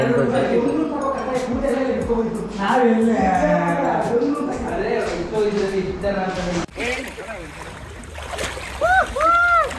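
Water splashes in a swimming pool in Goa, with loud overlapping shouts and talk from several people throughout.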